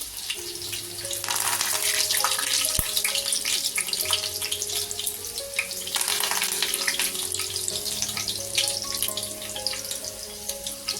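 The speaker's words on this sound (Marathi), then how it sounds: "तीन चमचे मी तेल टाकते हे लसूण आहे मी ठेचून घेतलेलं आहे ते घालते कढीपत्त्याची पानं घालते" Crushed garlic and curry leaves sizzle in hot oil in a pan for a curry, a steady bright crackle running throughout with faint tonal background sounds underneath.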